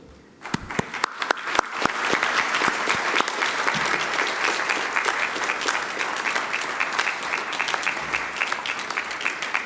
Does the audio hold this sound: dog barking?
no